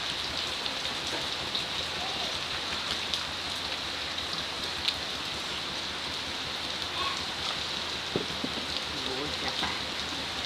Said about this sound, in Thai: ฝนตกครับฝนตก